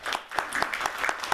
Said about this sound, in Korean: 잠깐만 우리 격려로 박수를 격려해 주십시오.